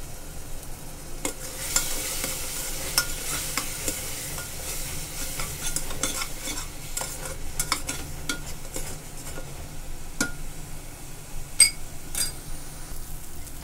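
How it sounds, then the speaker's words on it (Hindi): Spoon stirring tomato masala with coriander powder and spices as it fries in a pressure cooker, with steady sizzling throughout and repeated scraping and clinking strokes against the metal pot, close and alone without talk. "अब हम इसको अच्छे से पका लेंगे।"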